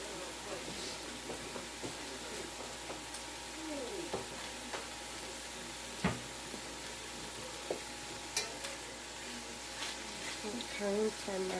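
Fajita meat seasoned with lemon pepper sizzles steadily in a hot pan, a constant crackling hiss broken by a few sharp clinks and scrapes, with brief talk now and then.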